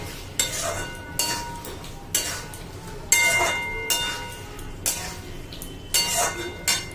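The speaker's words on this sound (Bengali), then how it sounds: "সব চিকেনগুলো আমি দিয়ে দিলাম। চিকেনগুলো দিয়ে জাস্ট নেড়ে" Chicken pieces are stirred in a cooking pan for chilli chicken, a spoon scraping in regular strokes about once a second, each pass a close, rasping sweep over a steady low background.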